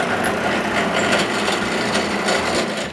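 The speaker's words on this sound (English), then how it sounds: "To help the gluing alignment, I drill some holes in the center of each piece." Wood pieces for a sign being drilled with center holes, a steady, close, grinding and rasping bit chewing through the wood with no break.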